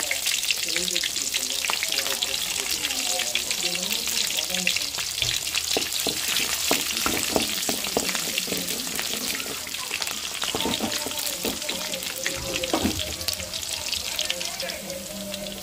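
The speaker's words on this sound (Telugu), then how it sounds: "ఫ్రై అవుతున్నప్పుడే సన్నగా తరిగిన ఉల్లిపాయ ముక్కలను పచ్చిమిరకాయ ముక్కలు వేసుకుందాం" Finely chopped onion and green chili pieces fry in a hot pan, giving a dense continuous sizzle with frequent clinks and scrapes of stirring.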